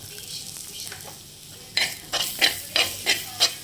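Two eggs are dropped into a pan of snake gourd frying in oil; a soft sizzle gives way to a run of rhythmic scraping stirs, about six strokes, close and fairly loud.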